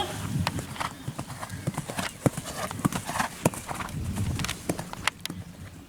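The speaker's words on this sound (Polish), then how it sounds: "Cały czas pilnujemy rytmu, tak żeby nasz koń spokojnie galopował cały czas taką samą fulą." Young horse cantering during a riding-school jumping training session, hooves clip-clopping in a steady three-beat rhythm at close range, with a rider talking faintly in the background.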